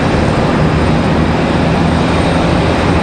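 Airliner passing at Charlotte Douglas airport, a loud, dense, continuous engine roar with low rumble, close and unbroken, no talk.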